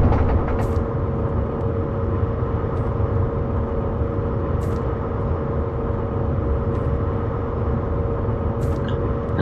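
German express passenger train from Train Simulator 2021, running on the Hamburg to Hannover line, with a steady, loud rumble of wheels and motors, a constant mid tone, and a few faint high ticks over the running noise.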